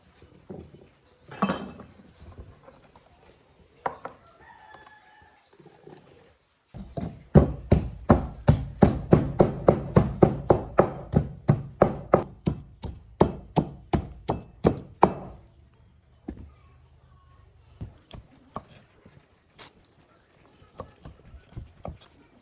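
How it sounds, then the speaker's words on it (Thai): Steady rhythmic pounding, about two dozen heavy thuds in quick succession as a pestle pounds turmeric and chili in a mortar, with lighter scattered knocks before and after. "เราก็จะมาตำขมิ้นกับพริกรวมกันโขลกให้เข้ากัน"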